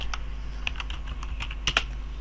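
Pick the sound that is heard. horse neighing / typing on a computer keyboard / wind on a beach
typing on a computer keyboard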